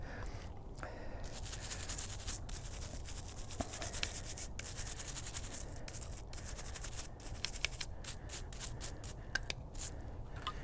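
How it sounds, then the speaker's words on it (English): A stiff brush scrubs a hand tool clean, working into nooks and crannies with steady, close, raspy strokes and brief pauses between passes. "this time I'm going to use a stiff brush, and I'm going to get in all these nooks and crannies"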